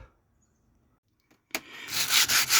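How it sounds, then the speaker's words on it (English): Abrasive scratching of hand sanding on wood starts after a quiet moment and continues steadily, with a few brief pauses between strokes. "Time for a little hand sanding"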